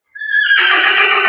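A large, long-legged foal gives one loud, close whinny that rises into a shrill, sustained neigh lasting over a second.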